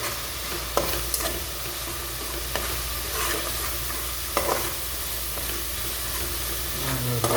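Spices with cumin powder frying in a pan while being stirred, a continuous loud sizzle overlaid with occasional scraping knocks of the spoon against the pan, no speech.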